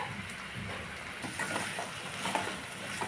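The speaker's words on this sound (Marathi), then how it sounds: "सगळं मिक्स करून घेऊया सर्व जिन्नस" Pumpkin leaf vegetable dish is stirred with salt in a pan, a steady hiss of sizzling with soft scraping, mixing sounds underneath, continuous and close.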